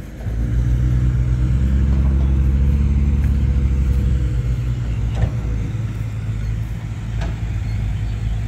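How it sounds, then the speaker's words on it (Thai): Diesel engine of a dump truck at an excavation site idling at low revs, a steady deep rumble that holds loud and close for several seconds, then settles slightly lower, with no talk over it. "เดินเครื่องรอบเบาอยู่ครับผมแรงอยู่"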